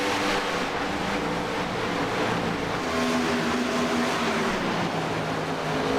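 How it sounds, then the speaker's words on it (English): NASCAR Craftsman Truck Series race trucks roaring around Talladega, a loud, sustained engine howl with shifting pitch as several trucks pass close together, continuous and unbroken. "Hearing the engines yell."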